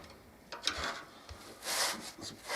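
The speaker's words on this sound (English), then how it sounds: "Abrasive scrubbing pad here. I'll just kind of clean it up enough so the cement will stick to it." An abrasive scrubbing pad rubs against a wood stove in short, quiet bursts of scratchy friction with brief pauses between strokes.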